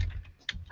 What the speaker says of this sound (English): right away it's us just staring down and typing furiously